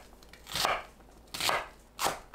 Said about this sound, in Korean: 양파는 가로 세로 1cm 정도로 썰어주세요.